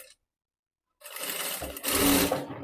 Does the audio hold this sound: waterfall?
no